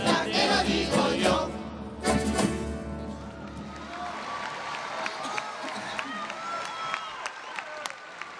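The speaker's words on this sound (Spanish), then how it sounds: "¡Fuerte el aplauso!" Audience at a seniors' queen gala in Santa Cruz de Tenerife bursts into loud applause and cheering after a song, with scattered shouts and voices over the clapping, which thins toward the end.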